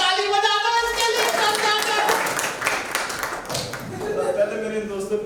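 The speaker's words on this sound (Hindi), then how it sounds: "अरे ताली बजा दो इसके लिए।" Audience clapping at a live stage show, a scattered burst of hand claps mixed with tonal music and voices speaking over it.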